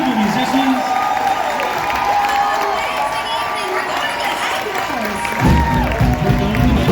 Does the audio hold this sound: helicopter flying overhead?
no